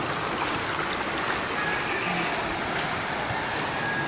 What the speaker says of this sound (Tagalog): Ayan yung sapa nila, ang ganda.